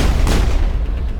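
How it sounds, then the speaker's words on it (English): Gunfire from the sci-fi shooter Mass Effect, a loud, dense burst of booming shots rolling over one another with no gaps, filling the whole moment with no voices. "We can pop them with a couple shots."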